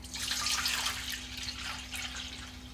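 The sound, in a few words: rinsing dyed cloth in water at sink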